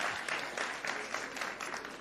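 Moderately faint applause for three speakers at an award ceremony for a food systems innovation challenge, a dense patter of clapping running the whole time.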